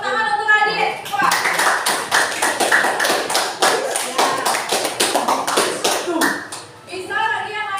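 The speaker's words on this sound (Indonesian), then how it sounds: "Tepuk tangan biasa aja." Applause from a school class during a lesson on cell parts, a dense burst of many hands clapping that swells and runs for several seconds, with a teacher's voice heard briefly before and after.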